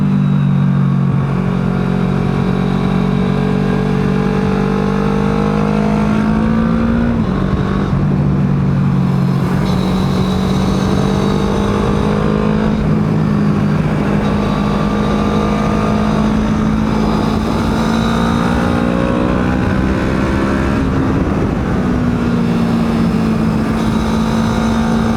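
Triumph Versys 650 and Honda VFR 1200 motorcycles riding on Croatian roads: a steady, close engine drone that rises and falls in pitch with throttle and gear changes, with wind noise and no talk.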